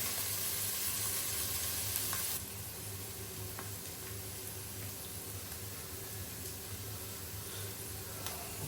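Chopped onions sauté in hot oil in a pan for an ivy gourd curry, giving a steady close sizzle with a brief louder hiss at the start and faint clinks.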